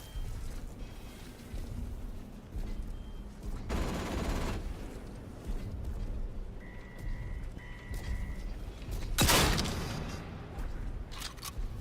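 In the video game Atomfall, rifle gunfire hits a turret robot in several loud, separate bursts, mixed with mechanical whirring and a couple of short electronic beeps.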